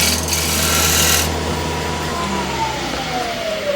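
Scraper refining a wooden bowl on a spinning lathe, a loud continuous rasping scrape over the steady motor hum that eases off after the first second, then a faint rising whine as the cut lightens.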